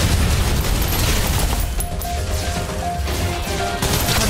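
Loud, dense suppressive gunfire in the Snowbreak Containment Zone shooter, a continuous barrage of close shots and impacts with crashing booms, steady and intense across the whole stretch.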